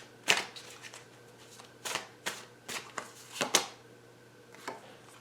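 Tarot cards are shuffled by hand in a series of quick riffles and soft slaps, close and crisp, separated by brief pauses over a faint low hum, with no talking.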